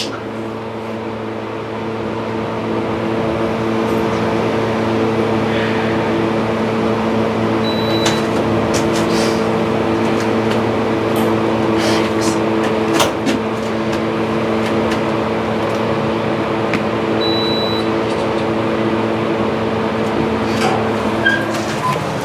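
Hydraulic elevator motor in a Rutherford, NJ parking garage runs with a steady, multi-toned hum and whine throughout, joined by faint clicks and small thumps as the car moves, with no talking.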